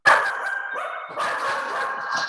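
Several dogs bark in a loud, continuous burst close by, with overlapping yips carrying through the whole stretch and no talk over them.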